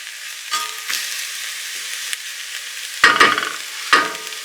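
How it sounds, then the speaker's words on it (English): Diced carrots tipped into a hot pan of frying food, a soft steady sizzle with a few sharper bursts of stirring near the end, close and alone with no voices. "Add the carrots and fry for another 2 minutes."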